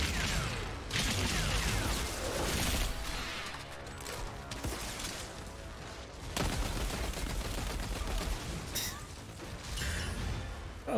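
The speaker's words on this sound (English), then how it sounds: "I love the auto shotgun." Rapid auto shotgun blasts in the Outriders video game, loud repeated booming shots in quick bursts over a busy combat soundscape, with a brief lull midway before firing resumes.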